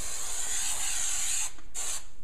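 A can of spray glue hisses steadily, close and loud, then stops briefly and gives one short final burst.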